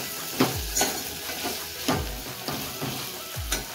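A spoon stirring spice into raw mango raita in a bowl, producing soft repeated scraping strokes in a steady rhythm, close and fairly quiet with no talk.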